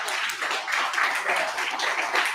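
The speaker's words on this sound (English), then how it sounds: "Everybody just want to give him a round of applause." Applause for an award recipient fills a short stretch, a steady wash of many hands clapping at moderate level, without pause.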